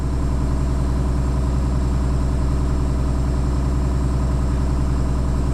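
Truck diesel engine held at a light throttle around 1,000 RPM during an air brake check, a steady, loud, low rhythmic rumble with no talk over it.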